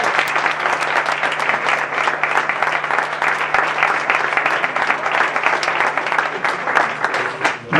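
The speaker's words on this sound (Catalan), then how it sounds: "Un fort aplaudiment per ell." An audience at a trophy ceremony for a hill-climb race from Bagà to Coll de Pal applauds loudly and steadily, with dense clapping that continues without a break and a low hum underneath.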